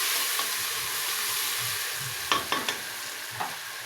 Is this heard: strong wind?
no